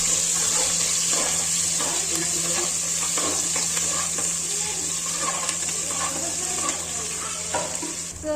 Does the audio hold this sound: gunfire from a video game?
no